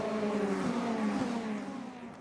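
Ferrari race cars, including 488 GTEs, roar steadily at high revs on the Imola circuit, a loud sustained mechanical drone with a faint pass-by swell and no talking.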